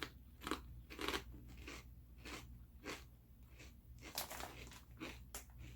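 Ruffles Spicy Cheddar Jack potato chips crunched in the mouth, close and faint, a series of crisp bites followed by rhythmic chewing crackles repeating every half second or so.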